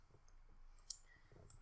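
A single sharp computer mouse click, used while playing an Angry Birds-style Scratch game, stands out once against a quiet room with faint background noise.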